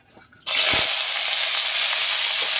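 Cauliflower dropped into hot oil bursts into a loud, steady sizzle that starts abruptly and keeps frying evenly, with a faint clatter near the start.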